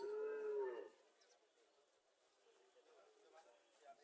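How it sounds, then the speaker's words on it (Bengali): A Friesian cow at a cattle market in Chauara, Comilla, gives one deep, drawn-out moo nearby, then faint farmyard background and distant murmuring follow. "এখানে কিছু গাভী দেখা যাচ্ছে"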